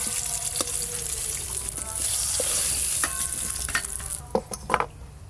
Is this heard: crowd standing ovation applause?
no